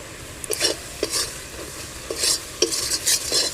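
A spoon stirs a sweet coconut filling with salt and cardamom in a pan for puffed-rice pitha, giving a series of distinct scraping strokes against the metal at an irregular rhythm over a faint sizzle, with no voices.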